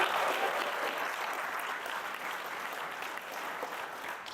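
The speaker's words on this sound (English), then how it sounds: "she deserves a round of applause." Warm audience applause fills a hall at an ambassador's farewell event, a dense, steady clapping from a large crowd that fades slightly over about four seconds without speech.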